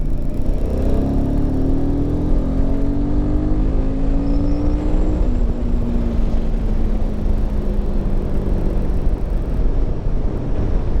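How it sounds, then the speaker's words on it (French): A Royal Enfield Himalayan 450 motorcycle pulls hard under acceleration, its engine note rising in long sweeping gear pulls with wind roar, loud and steady throughout. "Enfin, je vais accélérer un coup."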